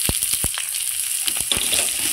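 Chopped raw onion is added to garlic already frying in a pan, giving a steady close sizzle with a few sharp crackles and scraping stirs.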